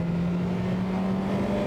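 Renault 5 Gordini Turbo engine driven hard, a loud, continuous droning roar close by with a steady low hum and no voices.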